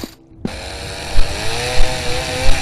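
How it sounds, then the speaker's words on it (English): A horror video game chainsaw sputters and revs in a thin, mechanical rattling drone that starts abruptly after a brief silence, with several rhythmic surges in loudness and no talking. "I hear the chainsaw guy trying to rev up his saw."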